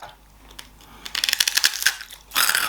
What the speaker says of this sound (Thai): แล้วกรอบมากฟังเสียงนะครับ